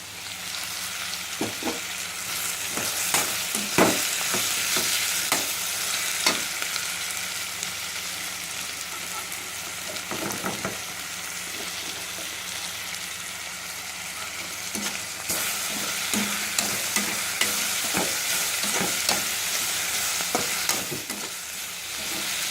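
Coconut and cashew nuts fry with a steady sizzle in a pan for a mushroom curry, broken by frequent scraping stirs of a spoon, close and moderately loud with no talking.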